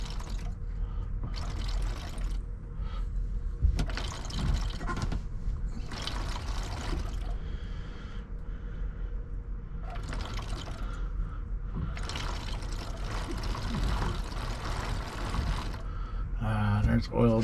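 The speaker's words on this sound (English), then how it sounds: "I can hear the oil going through it now." Hydraulic oil pours and trickles through a steering line on a 1989 Bayliner 3888 boat in repeated bursts over a steady low mechanical hum, moderately close, each surge lasting a second or two.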